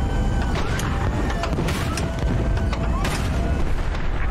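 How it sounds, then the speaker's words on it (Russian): A fuel tank bursts after a hit in a vehicle combat video game, producing a dense, loud rumbling blast with crackling debris and sharp impacts over a continuous roaring background. "Ух, это я в бак попал."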